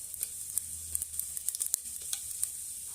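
Bay leaf and whole spices such as cumin fry in oil over a low flame, giving a steady soft sizzle with scattered small pops and crackles, close and fairly quiet.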